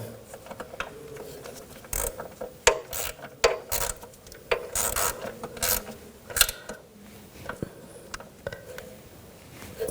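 A ratchet tightening the nut on a rear suspension integral link of a 2000-2006 BMW X5, heard as irregular bursts of quick ratcheting clicks up close, with pauses and metallic handling between strokes.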